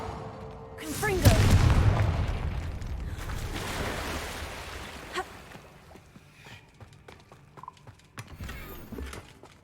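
A Confringo fire spell blast from Hogwarts Legacy lands as a loud booming burst, followed by a rumbling, crackling tail that slowly fades under scattered game effects.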